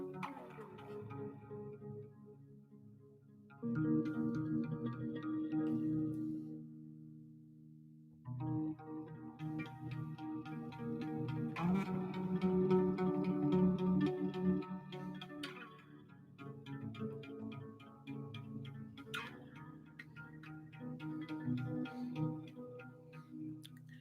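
Electric bass guitar played through added reverb and echo effects, quiet phrases of sustained notes separated by brief pauses, with no talking.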